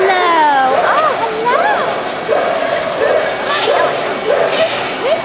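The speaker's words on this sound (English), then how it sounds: "dog is a Basenji" A Basenji at a dog show gives a run of rising and falling yodel-like howls and yips, loud and close, with people talking over it.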